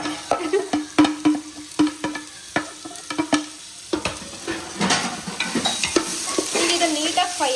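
Onions fry in a pan for a chicken dish while a spoon scrapes and clacks against the metal in sharp, uneven strokes, over a soft sizzle that thickens toward the end.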